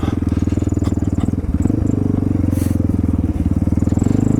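A Honda XR650L motorcycle engine thumps loudly and close with rapid, even pulsing as the throttle is worked on a snowy, icy trail, with small clatters over the steady drone.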